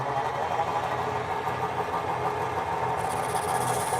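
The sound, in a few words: wood lathe motor sped up for turning a hollow form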